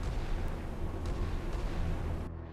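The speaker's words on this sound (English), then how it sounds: "There's another standard missile going up." Standard missile launching in a naval combat video game, a sustained loud roaring rush with deep low rumble that holds steady for about two seconds before cutting off abruptly.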